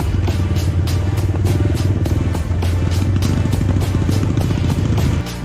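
A Honda Dream 100 motorcycle climbs a steep hill road in Phrae during a test ride, its small engine loud and close with a constant throbbing rumble and a steady pulsing beat throughout.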